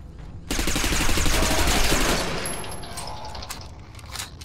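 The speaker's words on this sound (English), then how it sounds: "I just spent half that mag shooting between his legs" Machine gun fire in the shooter Interstellar Marines, a loud rapid burst of rattling shots that starts abruptly and tapers off over a couple of seconds, followed by quieter mechanical clicks.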